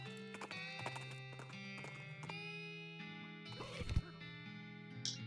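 Horse clip-clop with a brief neigh in the West of Loathing video game, hooves sounding over a steady tonal music bed, with a louder burst near the end.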